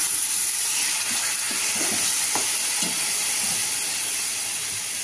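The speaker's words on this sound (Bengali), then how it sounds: "আমি একটু জলটা দিয়ে নিই" Water poured into a hot pan of cooked spices for tarka dal, a loud steady hiss of steam and sizzling that fills the whole clip, with a few soft stirring knocks.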